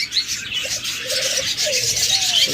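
Several pet birds, including cockatiels, budgerigars and lovebirds, chirp and tweet in a bird shop, with short high calls over steady background chatter of the flock.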